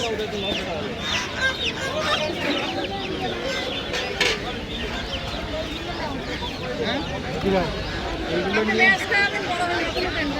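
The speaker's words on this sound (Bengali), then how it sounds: "তো আমাদের মুরগি এবং পাখির হাট হাঁসের হাট দেখানো কমপ্লিট" Chickens at a busy village poultry and bird market in Media: repeated clucks and squawks from several birds nearby, mixed with constant chatter from a crowd.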